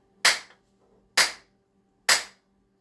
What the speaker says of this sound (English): let's pull a bullet with inertia